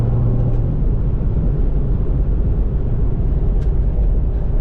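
A C6 Corvette driving, its engine a steady deep low rumble that holds strong throughout, heard alone without talk.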